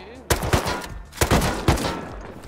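Several loud bursts of video game gunfire, quick shots in clusters with short gaps between them, sharp and close.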